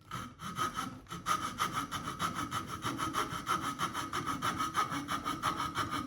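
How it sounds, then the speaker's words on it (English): A hand saw cuts wood while a redhead duck decoy head is roughed out, its quick back-and-forth strokes rasping in a steady close rhythm that runs almost without a break. "it doesn't take long to make these cuts with a hand saw"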